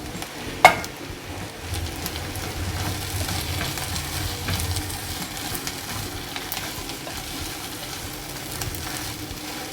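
Cooked chicken being stirred into fried onions in a pan, a steady soft sizzle with scraping and stirring sounds throughout and one sharp clink near the start.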